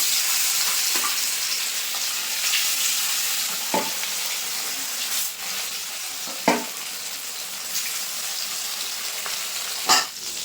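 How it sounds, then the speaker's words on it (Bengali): Pieces of silver carp frying in hot oil in a kadai, a steady bright sizzle throughout, broken by a few sharp clinks and scrapes of a utensil. "তেল কিন্তু খুব ভালোভাবে গরম হয়ে গেছে এখন মাছের পিসগুলো দিয়ে দেবো"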